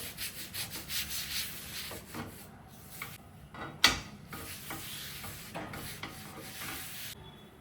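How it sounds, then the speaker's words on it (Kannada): A cloth is rubbed firmly back and forth across a new iron dosa pan, producing close, dry scrubbing strokes in an irregular rhythm with a sharp clink midway. "ಚೆನ್ನಾಗಿ ಒಂದು ಬಟ್ಟೆಯಿಂದ ಒರೆಸ್ಕೊಳ್ಳಿ. ಹಿಂದೇನೂ ಒರೆಸ್ಕೊಳ್ಳಿ."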